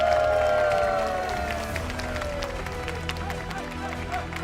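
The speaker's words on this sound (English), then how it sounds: "And for one last time, let's give a big round of applause for Maxi." Audience applause fills the hall at a Pokémon regional championship in Birmingham, a loud continuous wash of clapping and crowd noise that slowly eases off, with no words over it.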